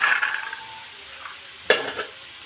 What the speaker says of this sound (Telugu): కడాయి వేడి కాగానే డైరెక్ట్ మనం నానబెట్టుకునే శనగలు వేసుకుందాం.